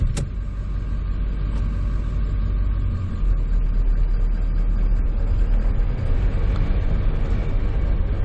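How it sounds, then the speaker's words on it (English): A 2000 Ford F-250 Super Duty pickup with a 7.3L Powerstroke diesel and ZF-6 transmission drives along, its engine a steady, loud low rumble heard from inside the cab with constant road noise. "why don't we take her for a quick spin around the block?"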